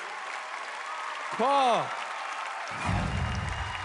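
A large theater audience at Radio City Music Hall applauds steadily throughout a talent show, the clapping continuing under a voice speaking over it.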